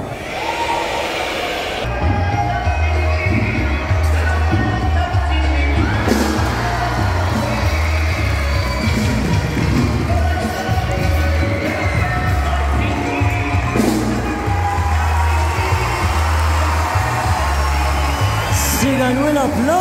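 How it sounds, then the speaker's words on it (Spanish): Circus crowd in Cali cheers, whoops and applauds for a trapeze act, a loud sustained roar under an announcer's amplified voice, with a low droning hum running beneath. "¡Ganó el aplauso!"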